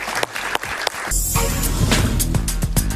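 Studio audience applause on a Venezuelan political talk show, a few scattered claps at first that swell into full, loud, sustained clapping from a small crowd, filling the rest of the moment without speech.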